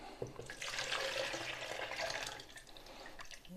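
Water is poured off an orchid's roots in a close, continuous splashing trickle that eases slightly toward the end, fairly quiet and with no talking.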